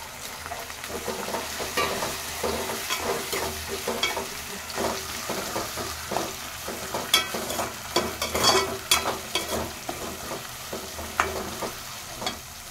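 Sprouted peas sizzle in hot oil and tempering in a pan, with steady frying crackle broken by repeated scraping and stirring strokes, close and fairly loud, no voices.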